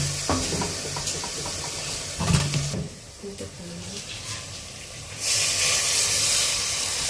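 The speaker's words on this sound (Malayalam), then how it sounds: "ഇനി കുറച്ച് പുളിവെള്ളം ഒഴിച്ചു കൊടുക്കണം" Tamarind water poured into a hot pan of fish curry with onion and tomato, setting off a loud, steady hiss and sizzle that briefly dips, then swells into a strong, bright steaming rush.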